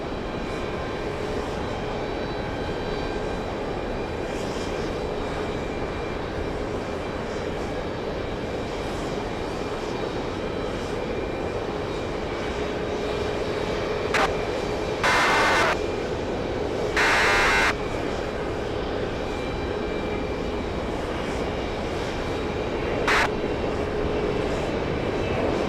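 An airliner arriving at JFK Airport, heard as a steady, continuous engine roar that holds at moderate loudness throughout. Brief beeps cut in near the end.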